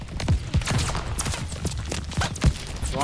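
Sharp bursts of gunfire crack in Call of Duty: Vanguard, several loud irregular shots and volleys spaced across a few seconds with ambient battlefield noise between them.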